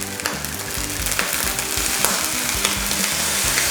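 Egg fried rice with sesame oil and soy sauce sizzles in a hot pan while being stir-fried, a close, steady crackling hiss broken by repeated scraping and tossing knocks, with no talking.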